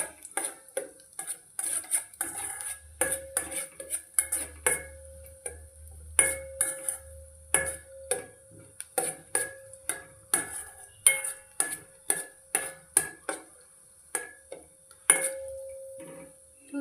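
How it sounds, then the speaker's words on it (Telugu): Steady rhythmic clinks and scrapes of a spatula against a pan as chopped cashews and almonds are roasted over medium flame, a close, busy series of metallic stirring strokes with little sizzle. "వేసుకొని మీడియం ఫ్లేమ్లో పెట్టి ఇవి మంచిగా గోల్డ్ కలర్ వచ్చే వరకు వేయించుకోవాలి."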